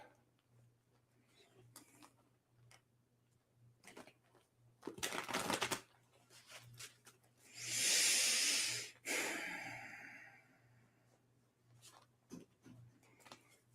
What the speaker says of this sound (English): Three nice deep breaths.